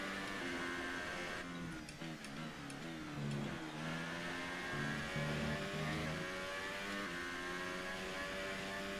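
An F1 2018 car at the Bahrain Grand Prix shifts up through its gears, producing a loud, steady engine whine that steps upward in pitch with each quick shift, with no talking.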